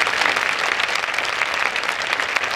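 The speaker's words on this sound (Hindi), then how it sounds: "एक जोरदार ताली परमेश्वर के इस बड़े सेवक के लिए" A large crowd at an evangelistic crusade festival in Kanpur bursts into vigorous, dense applause, a loud continuous roar of clapping for a couple of seconds with no voices over it.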